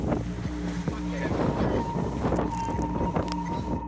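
A sailboat under sail on the open sea past Hurst Castle into Christchurch Bay, with wind buffeting the microphone, water rushing along the hull and creaking rigging under a steady roar, and voices talking aboard.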